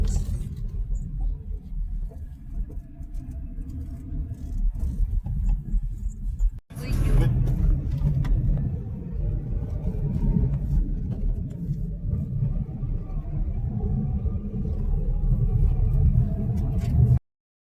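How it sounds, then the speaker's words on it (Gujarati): A car cruises along a highway with a low, steady engine and road rumble heard from inside, briefly interrupted about a third of the way through, and some faint talk in the cabin. "આપણી ગાડી જો ફાઇનલી હાઈવે ઉપર ચડી ગઈ છે અને હવે ડ્રાઇવિંગ કરવાની પણ મજા આવશે"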